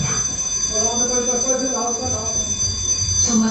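A building fire alarm sounds during a smoke evacuation drill with students: a steady, loud electronic tone holds throughout, with a low rumble and faint talk mixed underneath.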